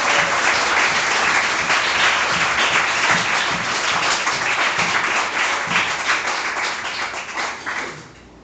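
A church congregation applauds during a worship service, loud, steady clapping from many hands that fills the room for several seconds, then fades at the end.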